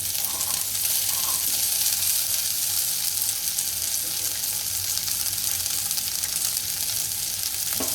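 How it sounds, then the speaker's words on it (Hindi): Fenugreek seeds, green chili and boiled black chickpeas fry in a teaspoon of oil, giving a continuous close hiss and crackle with faint stirring, steady for the whole stretch. "इसको 1 मिनट करीबन आप इसको फ्राई कर लीजिए।"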